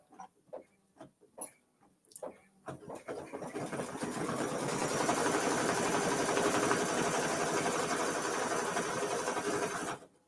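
A few sharp clicks and taps come first, then an embroidery machine in a 9x14 hoop stitches steadily around the outer edge of fabric circles on a mini-quilt, a close rapid mechanical whir.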